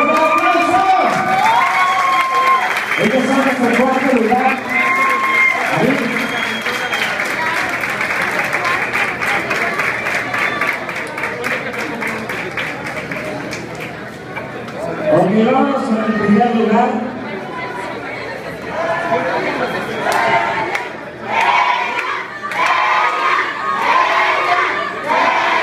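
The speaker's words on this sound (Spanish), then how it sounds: "les pido un fuerte aplauso, ellos son Ari y Yaret." A crowd at a regional salsa competition awards ceremony applauds and cheers loudly, with whoops and shouts rising in bursts over steady clapping while an announcer talks over the noise.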